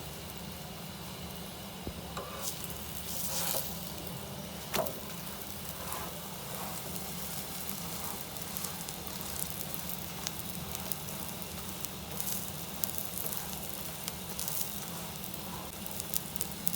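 Onion paratha frying in ghee on a hot pan, a steady close sizzle with faint crackles and spits running throughout without talk.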